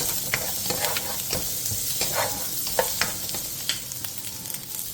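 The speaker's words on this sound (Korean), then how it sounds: "팬에 기름을 두른 뒤 양파와 당근을 넣고 센 불에서 양파가 투명해질 때까지" Onion and carrot stir-fry in an oiled pan over high heat. Close, crackling sizzle continues throughout, with frequent clacks and scrapes of a utensil tossing the vegetables and no speech.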